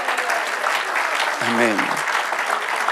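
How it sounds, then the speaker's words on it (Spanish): A church congregation claps for the Lord during a Spanish-language sermon, a steady wash of applause running throughout, with a brief spoken word breaking through midway. "Dele un fuerte aplauso al Señor."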